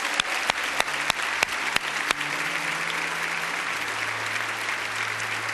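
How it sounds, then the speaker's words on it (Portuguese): A church congregation at a Baptist service applauds in sustained, dense clapping, with a few sharp individual claps standing out at the start before settling into an even roar. "Vamos aplaudi-los."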